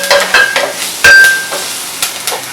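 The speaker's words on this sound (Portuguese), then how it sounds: "Então a gente tá dando aquela fritadinha" Sliced leeks sizzle and crackle in macadamia oil while a utensil stirs and scrapes them around the pan, giving close, irregular scraping strokes over a steady frying hiss.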